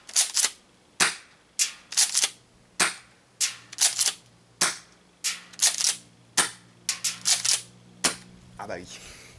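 A Tokyo Marui M870 Breacher airsoft shotgun fires in 6-BB mode: a close, irregular series of sharp, snappy clacks, each followed by the quick rattle of the pump, with no voices.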